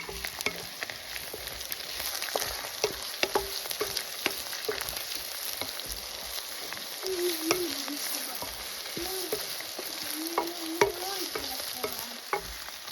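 Whole dried red chilies, home-grown, fry in hot oil with a constant close crackling sizzle, dotted with sharp pops and light stirring scrapes throughout.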